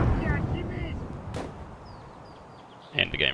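Two grenades going off in Escape From Tarkov, a heavy muffled blast rumbling at the start and a sharper burst near the end, with a thud in between and a voice briefly present.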